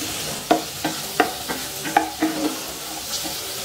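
Cumin seeds frying in hot oil, stirred with a utensil: a quiet sizzle punctuated by several distinct scraping strokes at an irregular rhythm, close by, with no talking.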